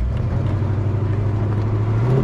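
A 1969 Chevelle convertible with a big-block 402 four-barrel V8 pulls away, its steady low engine rumble close and loud with a rising mid-pitched whir as it drives off.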